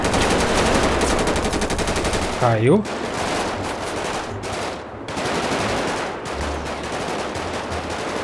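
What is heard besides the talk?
machine gun fire in GTA 5 video game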